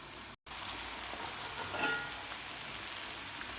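Chicken pieces fry in a pan until lightly crisp, giving a steady close broadband sizzle with a brief dropout near the start and no talking.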